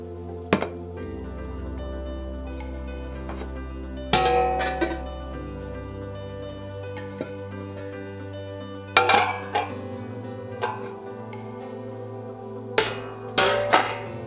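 Large ceramic dishes, a 26.5 cm round plate and a 24 cm square plate, set down one by one in a dish basin, giving sharp clinks and clattering knocks in spaced clusters over a quiet room.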